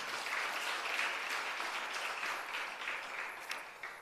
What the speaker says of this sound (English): Let's give a round of applause for all those who are present.